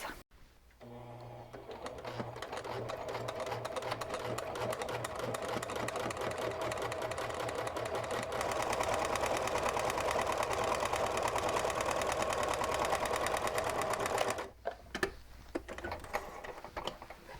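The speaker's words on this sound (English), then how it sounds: "I'm going to sew just maybe 1/4 of an inch down on each side of my bag" A sewing machine stitches a quarter-inch seam down the side of a fabric bag for a French seam, a steady fast mechanical whirring and ticking that runs on for over ten seconds before stopping, close and alone.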